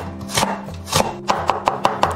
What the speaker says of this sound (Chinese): 我们头尾给它切掉，然后先给它切片。